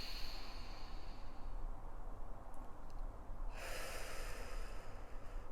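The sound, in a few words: deep breathing through the nose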